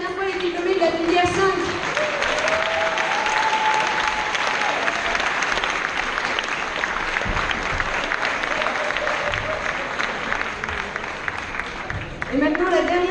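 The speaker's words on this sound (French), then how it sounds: "On peut applaudir une dernière fois les diplômés de la filière 5." Steady, sustained applause comes from a graduation ceremony audience, with many hands clapping at once and no break for about twelve seconds. A voice speaks briefly at the start and again near the end.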